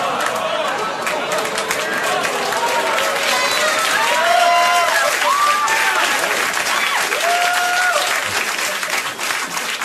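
A late-night talk show studio audience breaks into loud, sustained applause mixed with whoops and cheering voices, dense and continuous across the whole stretch.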